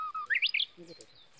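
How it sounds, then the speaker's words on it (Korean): Birds sing in a mountain forest while people gather wild greens: a quick string of bright, rising chirps nearby, followed by fainter calls and soft rustling. "새소리 들리는 거 봐"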